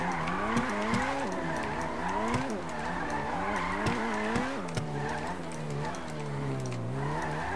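A Mazda RX-7 Veilside drifts in GTA V, its engine wailing and pitching up and down while tires squeal and skid continuously, close and loud, with a person talking over it.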